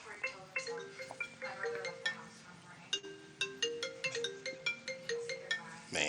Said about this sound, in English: whose phone is going off?